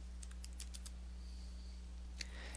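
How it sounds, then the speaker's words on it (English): A few quick computer keyboard key presses click close by in a short burst, then a single later tap, faint over a steady electrical hum with no talking. "Hold down the Windows key on your keyboard and then press the N key"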